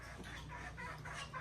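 Chickens cluck softly and repeatedly nearby, a few overlapping calls over a low steady background hum.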